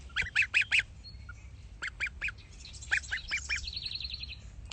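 Geese on a small farm kept alongside chickens honk in close, loud bursts of three or four calls, with short pauses between groups and softer calls trailing at the end.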